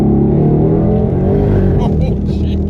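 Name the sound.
1,000 horsepower car on street tires accelerating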